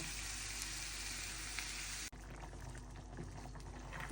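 Potatoes and chickpeas frying with browned meat in a pan for a ghugni-style curry, a steady broad sizzle throughout with a brief dropout midway.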